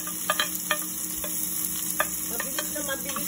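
Onion and garlic sautéing in a pan for chicken tinola, with a steady sizzle under repeated scraping and stirring clicks of a utensil against the pan, close and moderately loud, with no talking.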